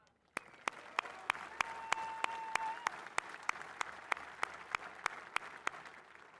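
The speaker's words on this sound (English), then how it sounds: "Let's give a round of applause to the men and women who made this happen." Applause at a Marine Corps 250th anniversary celebration: sharp, evenly spaced claps ring out over a soft wash of crowd clapping, faint and distant, with a brief tone heard early on.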